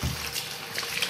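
Tap water runs steadily into a sink as a reborn doll is rinsed under the stream, a continuous close splashing hiss with no pauses.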